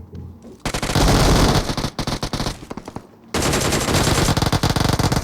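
Rapid automatic gunfire from PUBG Mobile, loud close bursts of machine-gun fire with a brief pause in the middle before another sustained volley.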